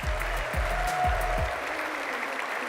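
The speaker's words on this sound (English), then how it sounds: "Please give a huge round of applause to Faustine Germain." Audience applause at a live grand final of a sustainable cooking competition, greeting a chef from France: steady broadband clapping throughout, with a low rhythmic thumping and a faint tone over the first half.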